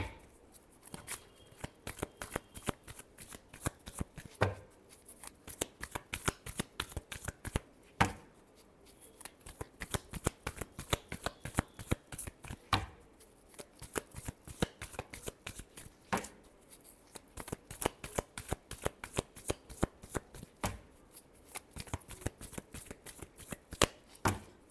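Tarot cards being shuffled by hand, a long continuous run of crisp riffling flicks and slaps, close and fairly quiet, with brief pauses between bursts and no talking.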